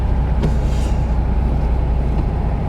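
A 1966 Porsche 912 engine runs in a steady, loud, continuous drone with low rumble and no clear changes in pitch, heard close and without talk.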